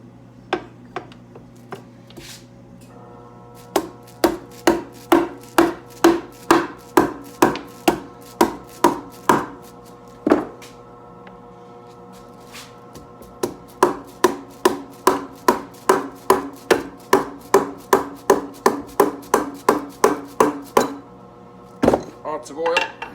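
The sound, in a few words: rubber mallet hitting 1985 Harley FXRS Evo engine case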